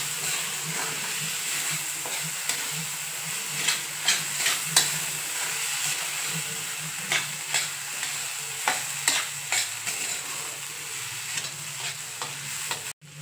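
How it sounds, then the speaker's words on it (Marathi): Mung dal stir-fried in a pan for besan kachori filling, with a steady close sizzle and repeated scraping stirs of the spoon against the pan throughout, no talking. "मूग डाळ सुद्धा छान आपली व्यवस्थित आपल्याला परतून द्यायची"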